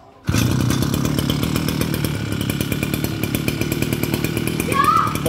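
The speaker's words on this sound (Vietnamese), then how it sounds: "Mọi người nghe tiếng máy lại nữa nhá, cho nó xíu nhá." Small T170 backpack engine starting up and running close by, a loud steady buzzing drone with a rapid rhythmic pulse and a slight rev near the end.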